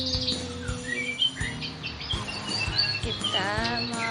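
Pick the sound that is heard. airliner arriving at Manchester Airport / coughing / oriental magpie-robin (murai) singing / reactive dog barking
oriental magpie-robin (murai) singing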